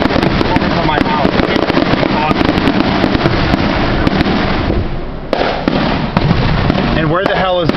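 Loud, continuous barrage of fireworks and firecrackers at an illegal Fourth of July show in a Dunedin neighborhood, with crackling bursts packed tightly, a brief lull near the end, and a voice talking under the noise.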